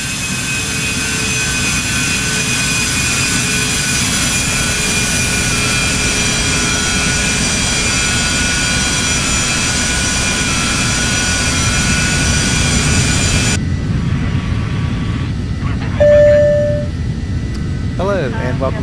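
The Embraer Phenom 300 jet cruises at flight level 430 in a flight simulator game, a constant loud cockpit drone with faint whining tones, shifting tone briefly in the later seconds.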